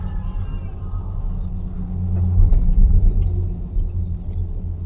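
An aerial cable bus cabin glides over Mexico City with a steady low rumble and hum of the cable car in motion, swelling slightly midway, with faint background noise and no talk.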